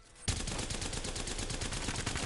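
Rapid, sustained automatic fire from the Havoc energy rifle in a first-person shooter game, a dense loud stream of evenly spaced shots starting abruptly and continuing without pause.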